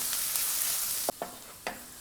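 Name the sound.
sautéing onions with chopped ginger in a pan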